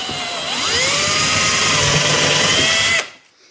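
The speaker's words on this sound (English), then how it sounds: "So you just hold your cone firmly down and drill through it." A handheld power drill whines loudly and continuously as it bores through a pine cone for a craft wreath, its pitch shifting slightly under load before it cuts off abruptly, with no one speaking.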